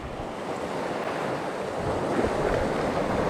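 Steady, continuous wind rushing over the microphone with a broad roar like surf, pulling at a banner, moderately loud throughout and no voices.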